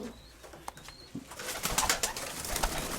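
Inside a pigeon loft during breeding season, soft cooing murmurs at first, then louder rustling and cooing swells from about halfway, close and busy, with no speech.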